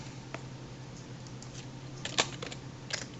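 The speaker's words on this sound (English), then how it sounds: "the little tinkle is her typing back to me" Soft typing ticks and a faint chime as a chat reply comes in, a few scattered light taps clustered together, quiet and close with no talking.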